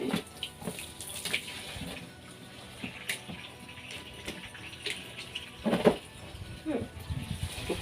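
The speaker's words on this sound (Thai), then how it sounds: "เติมน้ำเข้าไปนะครับ โอ้โหน้ำไหล" Water runs from a tap into a plastic tub used for growing red lotus, a continuous faint trickle and gurgle with occasional splashes. Someone talks over it in Thai.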